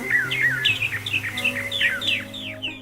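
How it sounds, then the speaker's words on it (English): Birds chirp in rapid, repeated high trills and tweets in The Life and Suffering of Sir Brante video game, loud and close over a steady low hum, with no talking. "That was some vicious chirping, at least at the volume I've got it."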